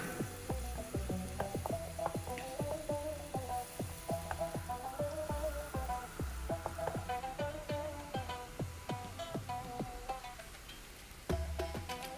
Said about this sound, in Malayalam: ഹൈ ഫ്ലെയിമിൽ ഇട്ടിട്ട് നമ്മൾ ഒരു അഞ്ച് മിനിറ്റ് നമുക്കിതൊന്ന് ഫ്രൈ ചെയ്തെടുക്കണം